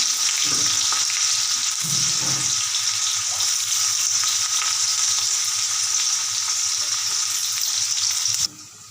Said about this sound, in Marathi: आता बघा कांदा छान असा भाजला